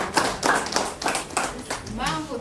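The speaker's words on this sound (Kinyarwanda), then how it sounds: "impamvu tubahaye amashyi no kugira ngo" Guests at a civil wedding in Rwanda clap in an irregular, fairly close patter while a voice speaks over them.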